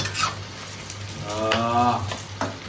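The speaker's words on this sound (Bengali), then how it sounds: "পেঁয়াজগুলো কিন্তু সব দেওয়া হয়ে গেল সর্ষের তেলের উপরে" Chopped onions in mustard oil fry with a soft, close sizzle and light crackling; a brief tonal whine rises midway above the steady hiss.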